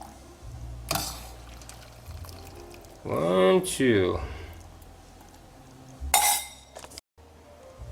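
Spaghetti beef soup ladled from a stew pot in two bursts of pouring, sloshing liquid with a light clink, separated by quieter stretches; brief voices count at the start and near the end.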